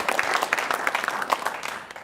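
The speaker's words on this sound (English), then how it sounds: "round of applause for Matt" Brief burst of audience applause with individual claps audible for a live football show crowd greeting Matt Yerman, lively and close, tapering off after about two seconds.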